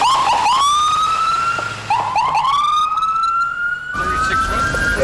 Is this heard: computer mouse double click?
no